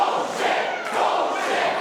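A wrestling event crowd sends up a loud, continuous roar of mixed, unhappy shouting that fills the space without a break.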